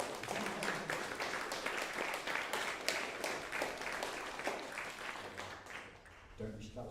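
Applause after a performance at a new music masterclass, steady clapping from a small audience that thins near the end, where a voice begins to speak.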